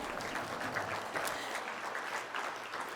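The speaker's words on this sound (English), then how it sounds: "you can clap" Audience applause fills a conference hall at a healthcare panel event, a steady, dense clapping from a sizable crowd sustained throughout without pause.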